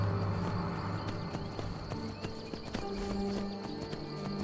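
Horse hooves clip-clop at a gallop in the Skyrim video game, a steady rhythmic pounding close up under a continuous low rumble of game sound and music.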